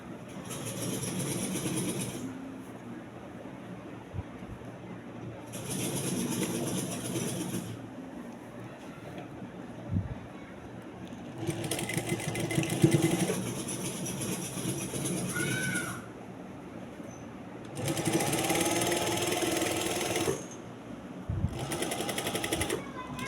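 Sewing machine stitching a back neckline, running in several bursts of a few seconds each with quiet gaps between, close and steady, while someone talks softly at times.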